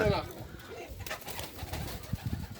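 Pigeons cooing nearby in soft, low, repeated calls over a quiet background, with faint murmuring voices.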